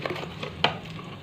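Tadka of hot oil in a pan, sizzling softly as turmeric and spices are stirred in, with faint scraping stirs and one sharp clink of a utensil, fairly quiet and brief.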